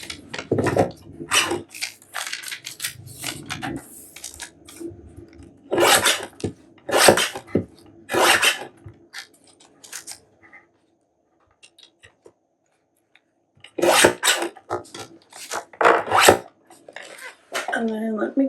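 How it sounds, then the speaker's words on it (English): Paper is torn by hand into strips of different widths, making loud, close ripping bursts in several clusters separated by quiet pauses. "And then if you want to rip, you could rip some too. Different widths."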